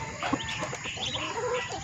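Chickens on a farm cluck in a busy overlapping chorus, near and steady throughout, with no talking over them.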